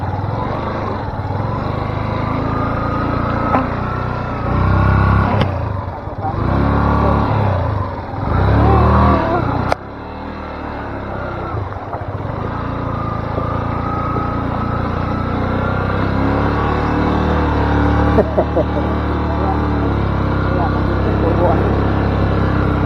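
A motorcycle fords a river on the road to Daraitan in Tanay, Rizal, its engine droning and revving steadily through the water crossing, with voices talking over it throughout.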